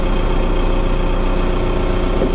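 Inside the cab of a LOVOL M1104 tractor of over 100 hp, the diesel engine runs at about 1200 rpm with a loud, steady, unbroken drone and no voices.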